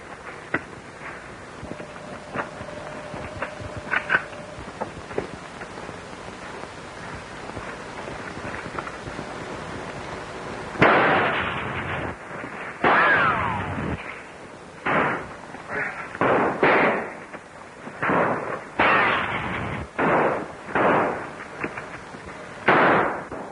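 Gunfire in a 1935 action film serial: a rapid run of loud, sharp shots and bursts, starting after a quieter stretch and then continuing in irregular clusters of cracks and booms.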